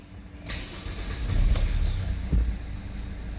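A 2015 Hyundai i30 with an engine cutting-out fault starts up, the starter crank giving way to a steady idle with a brief rev, heard close with no talk.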